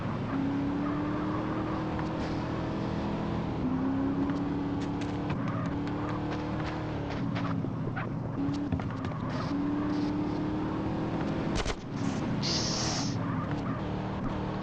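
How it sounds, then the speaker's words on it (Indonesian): Car engine in GTA San Andreas during a race lap, a continuous loud droning motor with wavering pitch as the car drifts, with a brief tire screech and a sharp knock near the end. "Ngedrift teman-teman mobilnya sumpah."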